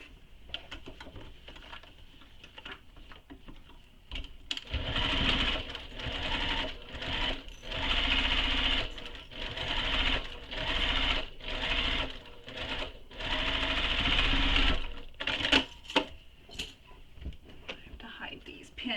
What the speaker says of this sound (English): And then I'm going to baste this to my panel again, just like I did with the first half.